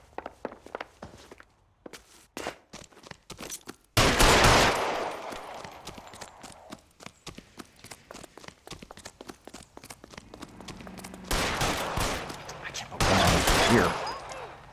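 Gunfire in the video game L.A. Noire: loud bursts of rapid shots in two main volleys, with footsteps, clattering and game voices speaking in between.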